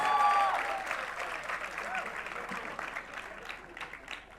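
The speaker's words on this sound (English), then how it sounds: "Can we please have a huge round of applause for this Oscar-worthy performance?" A college annual day audience applauds in a sustained, moderately loud wash of clapping that tapers slightly, with some crowd noise and a brief tonal sound at the start.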